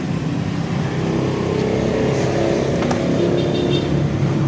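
A car engine idles steadily after its timing chain tensioner has been replaced, giving a continuous close mechanical hum with a faint ticking layer and no speech over it.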